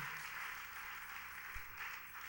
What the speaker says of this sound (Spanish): Dale un aplauso fuerte nuevamente al Señor.